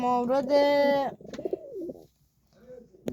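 Pigeons coo nearby among their chicks, with a drawn-out call followed by softer, wavering coos and a brief pause before another starts.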